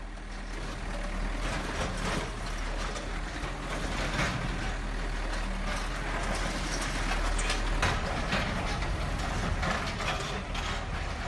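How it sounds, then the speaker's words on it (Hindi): A bulldozer rumbles and grinds continuously while demolishing shops, with scraping, clattering debris and mechanical clanks at a steady, loud level. "बुलडोजर ने ढहा दिया है"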